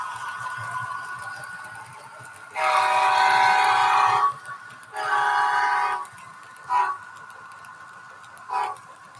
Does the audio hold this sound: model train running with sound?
yes